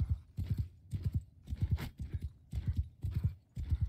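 Horse hooves gallop in steady, rapid clip-clop bursts in the video game Mount & Blade 2: Bannerlord, close and loud with a brief whinny-like edge, no talk over it.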